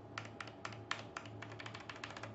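Keys on a Zowie Celeritas II esports keyboard, with a feel like Cherry MX brown switches, typed in a quick, close run of crisp, clicky taps at an irregular rhythm over a faint low hum.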